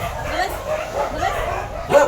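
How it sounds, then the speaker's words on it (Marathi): Several dogs bark and yelp at an animal shelter, a mix of sharp yips and whimpering calls from nearby, mingled with background chatter and ending on a louder bark. "हे कुत्रे सगळे ओरडतात."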